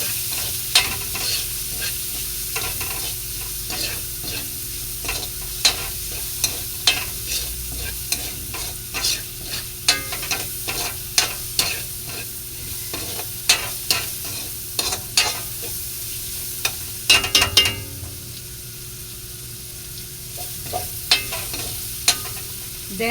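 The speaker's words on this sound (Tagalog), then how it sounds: "So, dito pa lang, ginigisa-gisa na natin." A pan of ingredients for Filipino batchoy sautéing with a steady sizzle, broken by frequent sharp stirring scrapes and clacks of a utensil against the pan, close and fairly loud.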